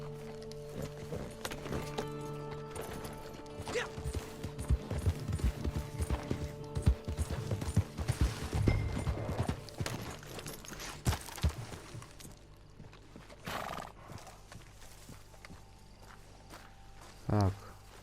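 Horse hooves clip-clop in steady rhythm in the video game Red Dead Redemption 2, with footstep-like clatter under in-game music and occasional voices.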